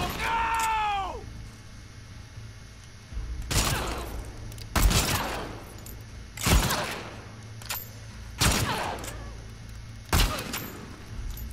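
Heavy gunshots in The Last of Us Part 2, five or six loud separate blasts spaced a second or two apart, with a brief tonal sound at the start.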